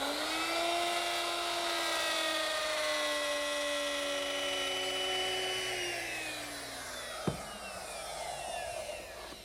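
A router fitted with a top-bearing straight bit cuts along a template, a loud sustained high whine that sags and shifts in pitch under load, ending in a sharp knock as the cut finishes.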